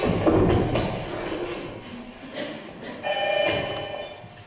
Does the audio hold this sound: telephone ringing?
yes